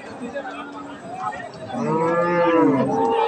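Cattle mooing at a cattle market where Friesian and crossbred cows are sold, a deep drawn-out low rising to a loud, close bellow over a murmur of crowd chatter.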